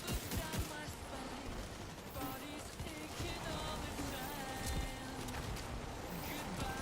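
Gunfire in The Division 2 shooter game, rapid bursts of shots blended with game ambience and a busy, dense mix, fairly quiet overall with a few sharper cracks standing out.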